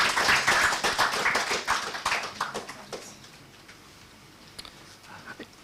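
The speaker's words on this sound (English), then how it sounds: "A big round of applause." Audience at a research methodology workshop claps in a loud burst of applause that thins out and fades to a few scattered claps by the end.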